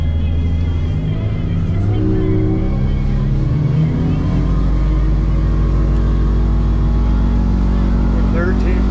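Twin outboard motors on a 2021 North River 29 Offshore boat accelerate toward planing on the water, a loud, steady engine roar with rising pitch and a voice talking over it.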